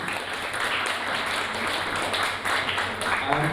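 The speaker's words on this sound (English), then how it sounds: "Round of applause to Bradley and Ed, please." A crowd applauds steadily throughout at a student union election results night, a dense, even wash of clapping at moderate loudness with no clear break.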